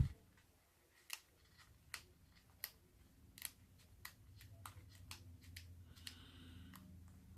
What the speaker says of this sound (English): So I am going to take this paper off.